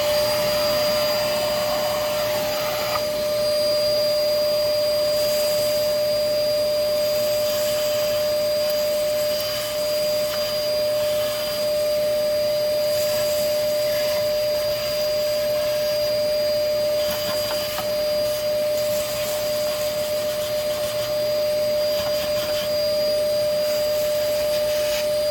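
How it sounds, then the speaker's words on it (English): A vacuum cleaner runs steadily and loudly up close while cleaning out the cab of a 1974 Chevy C20 squarebody truck that had sat 25 years in the desert, its high whine continuous throughout with no talk. "I got all that vacuumed out of there."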